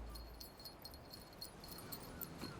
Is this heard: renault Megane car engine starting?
no